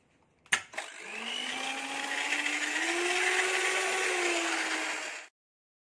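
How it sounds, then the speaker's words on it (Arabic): An electric beater whips a cake mixture until pale for a number-one-shaped birthday dessert. A knock comes first, then a steady high motor whine runs for about four seconds and cuts off abruptly. "وغادي نطلعهم مزيان حتى يبيض لون الخليط"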